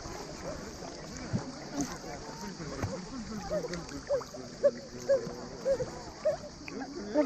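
A boat moves forward on the water off the coast of Croatia, with a faint wash and lapping sound beneath people talking nearby.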